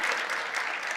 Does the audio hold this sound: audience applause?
yes